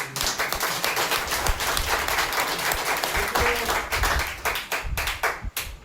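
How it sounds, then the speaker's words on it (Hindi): Loud, dense applause from a crowd at a motivational team training session, steady clapping throughout with a few sharper claps and a brief thinning at the end. "एक बार आगे जोरदार तालियां।"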